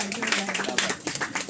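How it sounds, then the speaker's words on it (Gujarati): Audience clapping at an award ceremony for dancers, a brief burst of applause heard beneath a talking voice. "જોરદાર તાળીઓ થઈ જાય."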